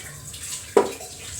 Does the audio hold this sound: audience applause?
no